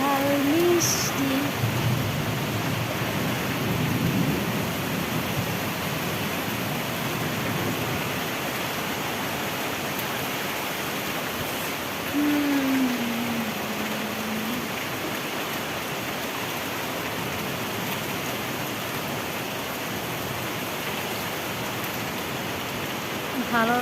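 Steady heavy rain pours outdoors during a spring storm, a broad continuous wash of drops with a voice speaking briefly near the start and again in the middle, no distinct thunderclaps.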